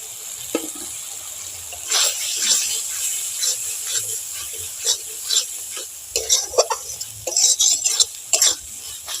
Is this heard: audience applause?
no